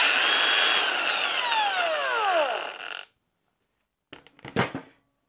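A Makita XGT X-Lock angle grinder, rated to 8,500 RPM, winds down from full speed with a long falling whine that fades to silence. A brief burst of it spinning back up follows near the end.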